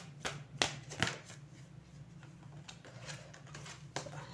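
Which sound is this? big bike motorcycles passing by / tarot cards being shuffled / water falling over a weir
tarot cards being shuffled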